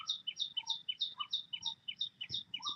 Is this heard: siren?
no